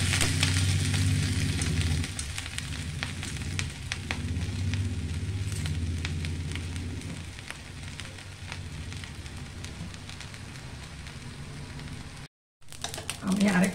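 Moong dal dosa frying in ghee on a pan and being flipped, a steady broadband sizzle with crackle throughout, some low rumbling handling, then a brief cut near the end before the sizzle resumes.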